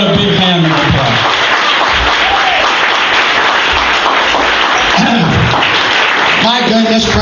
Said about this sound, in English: bring him on with a big hand of applause.